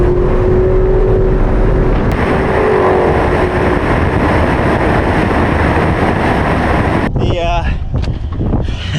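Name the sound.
Corvette ZR1 race car driving on track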